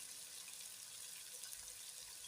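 Water drained from a bowl of soaked potatoes in a kitchen, a faint continuous hissing pour with no breaks, quiet and alone.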